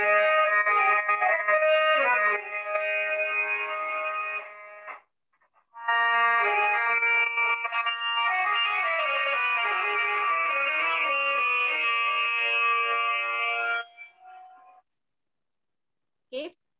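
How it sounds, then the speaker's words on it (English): A harmonium playing sustained reedy chords and melodic lines, loud and close, with a brief pause partway through and a short fade at the end. "Now this is the sound of harmonium."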